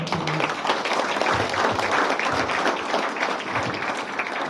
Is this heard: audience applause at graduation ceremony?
yes